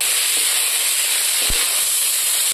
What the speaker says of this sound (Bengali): আমি এখন মাছ ভাজা তেলের মধ্যে ফুলকপিটা ভাজি নিচ্ছি।